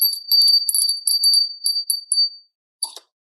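A small bell rings in a quick run of bright, tinkling strikes for about two seconds, falls silent, then gives one last short jingle, close and clear, with no voices.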